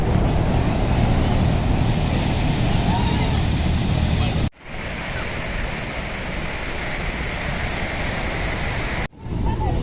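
Large sea waves crash on Hawke's Bay beach during rainy weather, a loud continuous roar of surf with wind, interrupted twice by abrupt cuts.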